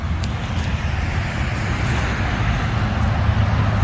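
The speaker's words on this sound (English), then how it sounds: "Let the cars go by. I apologize about the cars." Steady roadway rumble of cars driving past, a continuous low engine and tire noise with no talking.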